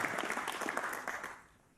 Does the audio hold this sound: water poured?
no